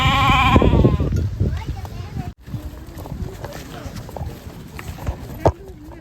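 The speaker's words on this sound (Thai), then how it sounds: "ก็มาให้อาหาร แกะกันเรียบร้อยนะครับผม" Sheep bleat at a sheep farm on a mountain, with several calls near and far mixed with hoof clatter and movement, while someone talks over them.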